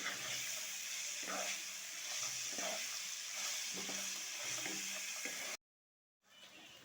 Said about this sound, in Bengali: কলা পাকাটা কিন্তু খুব ভালো করে একটু ভেজে নিয়েছি